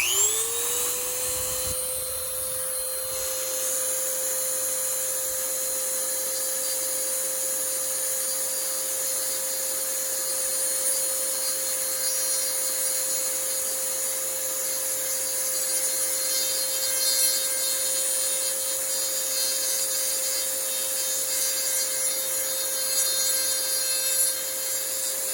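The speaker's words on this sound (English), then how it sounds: "So here's where I need a Dremel." A Dremel rotary tool spins up to a high-pitched whine and keeps cutting into a DH-132B helmet shell, a steady, loud, close buzzing drone that holds throughout with no voices.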